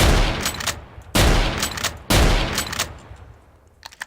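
Three loud bursts of rapid gunfire from a shooter video game, each blast slamming in and tailing off, with no voices over it.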